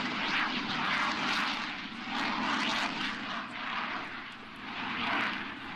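A propeller airplane flies past at an air show, its engine drone swelling and fading steadily at a moderate distance, with no voices over it.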